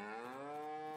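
Humped cattle in the Farming Simulator 19 video game give a single sustained, loud moo with a slowly rising pitch, heard alone without any talking.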